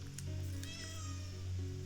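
A pet cat meows close by, a drawn-out, wavering cry with a couple of shorter calls, heard alone over a low steady hum.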